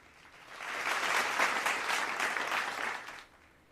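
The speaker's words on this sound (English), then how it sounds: "A round of applause for grandma" An audience at an education foundation event applauds for grandma, the clapping swelling to a full, steady round and then fading out after about three seconds.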